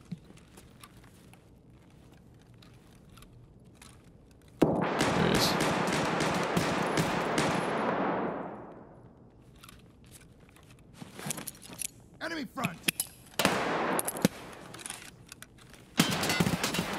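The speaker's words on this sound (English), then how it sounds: "Someone else is shooting at me." Gunfire from another player in Escape from Tarkov, a sustained loud burst of rapid shots that trails off, then scattered sharp shots and clatter return later, with no talk.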